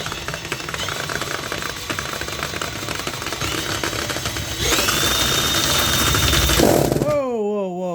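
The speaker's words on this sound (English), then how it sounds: "I'm going to show you just for funsies how fast we can make this guy roll with the drill" A power drill spins a drain snake, whining and rattling continuously, then revving higher and louder partway through before stopping abruptly; voices talk over it.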